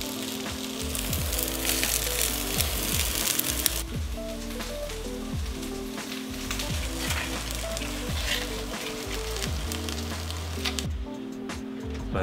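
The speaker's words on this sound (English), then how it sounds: "we wrap the pan around with a little bit of zucchini, and then you dump your green beans in the middle, and you fry it all up." Zucchini and green beans sizzle and fry steadily in a pan, a continuous loud crackling hiss with occasional stirring, no talking over it.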